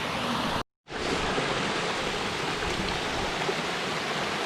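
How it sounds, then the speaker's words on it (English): Waterfall cascades in the Wichita Mountains wilderness give a steady, loud broadband rush of falling water, close by and continuous, broken only by a brief near-silent gap early on. "Nice cascades here."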